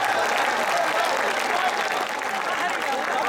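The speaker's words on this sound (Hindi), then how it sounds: "एक बार जोरदार तालियों की गड़गड़ाहट हो जाए" An audience at a Hindi poetry recital (kavi sammelan) at IIT Jodhpur bursts into dense, sustained applause, a steady roar of many hands clapping throughout.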